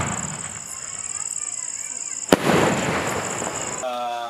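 A Sivakasi single-shot firecracker launches with a steady hiss, then bursts in one sharp, loud crack followed by a crackling rumble that fades. A tone-like sound is heard at the very end.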